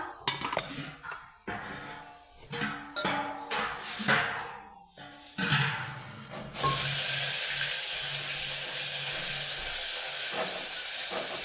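Masala roasting in a pan for a spicy Maharashtrian village-style fish curry, starting with intermittent clinks and scrapes, then settling into a loud, steady hiss and sizzle that holds for the last several seconds.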